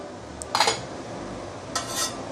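A spoon clinks twice against a bowl while onion oil goes onto noodles for roast pork noodles, two short bright metallic taps in a quiet kitchen.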